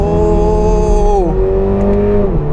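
A Subaru BRZ engine revs hard under acceleration, its loud, close drone climbing in pitch, then dropping sharply at each quick gear change before pulling up again.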